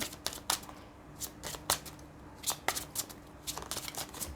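Tarot cards are shuffled close up, with sharp papery flicks and slaps in uneven bursts and a busier flurry of snaps toward the end.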